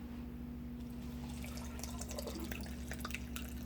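Mead dregs pour into a narrow tall glass with faint trickling and dripping splashes that build toward the end, over a steady low electrical hum.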